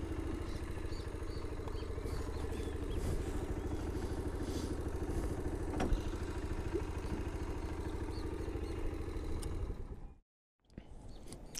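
A motorcycle engine runs steadily at close range on the way onto Ilha do Frade, a residential island in Vitória, Brazil, with a low idling drone, light clatter and a short dropout near the end.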